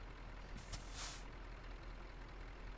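A heavy truck in Euro Truck Simulator lets out a brief hiss of its air brake, a quick pneumatic burst followed by a second, longer release, over a steady low engine drone with no speech.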